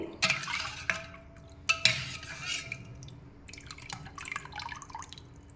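Raw tamarind juice is stirred in a vessel, with a few sharp clinks of a spoon against the rim, soft liquid swishing and dripping, close and fairly quiet.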